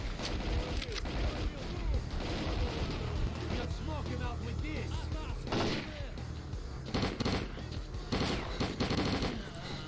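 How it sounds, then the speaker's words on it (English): A sustained firefight in the shooter S.T.A.L.K.E.R. Clear Sky keeps up continuous rifle and machine-gun fire, with loud cracking volleys over a dense battle din and voices heard amid the shooting. "they're only firing away"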